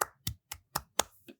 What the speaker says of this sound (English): Claps for everyone.